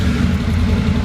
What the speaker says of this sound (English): we're gonna start this bike.